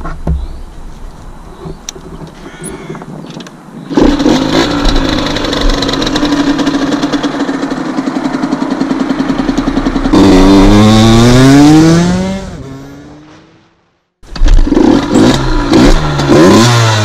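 Motorbike engine after a carburettor tuning, at first a faint low running, then it catches and revs loudly with rising and falling pitch before dying out and restarting close by.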